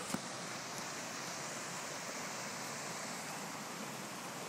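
A huge, rain-swollen waterfall gushes, a steady, dense roar of rushing water that fills the whole scene without a break.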